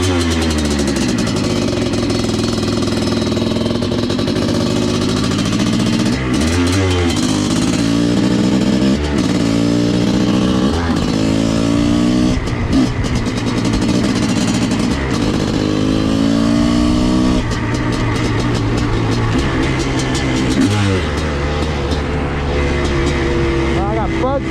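A Honda CR500 two-stroke dirt bike engine runs loud and close, rising and falling through repeated throttle blips and revs over a steady idle, with brief pauses between bursts.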